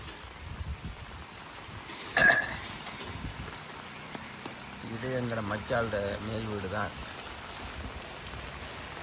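Continuous rain falls steadily in a hilly area, a constant dense patter on surfaces throughout, with someone talking over it and a brief sharp knock partway through.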